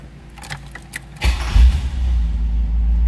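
A 1984 Chevrolet Camaro Z/28 with its high-output 305 V8 and 5-speed manual starts close by. Keys jangle and click first, then the engine cranks and catches into a loud, steady rumble.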